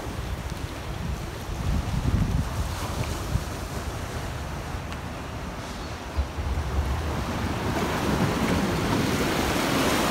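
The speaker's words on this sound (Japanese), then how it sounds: "うん、ちょっと波があるかな。" Sea waves roll on the Sea of Japan coast after a recent typhoon, a steady wash of surf mixed with gusting wind buffeting the microphone, fairly distant and constant with no voices.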